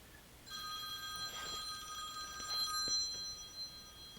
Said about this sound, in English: Sorry folks, that's my phone ringing here.